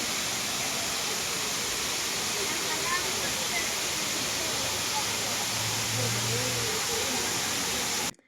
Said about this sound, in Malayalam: ഈ വാട്ടർഫോളിൻ്റെ താഴെ ചെന്ന് നിൽക്കാൻ നല്ല രസമായിരുന്നു കേട്ടോ